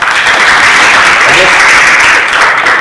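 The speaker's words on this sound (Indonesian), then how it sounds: "Iya, tepuk tangan" A classroom audience applauds after a student presentation, a loud, continuous roar of many hands that fills the room, with some voices mixed in beneath the clapping.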